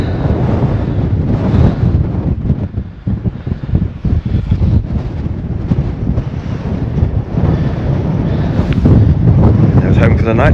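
Strong wind buffets the microphone on a Peak District hillside, a loud continuous low roar with gusty surges that holds steady throughout and rises again near the end.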